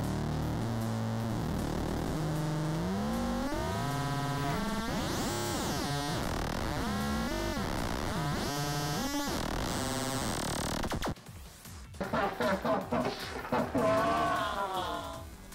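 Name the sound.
synthesizer oscillator modulated by second oscillator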